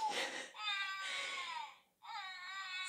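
An infant cries during a first aid demonstration for clearing a baby's choked airway, with several wailing bursts and a brief gap, moderately close and alone.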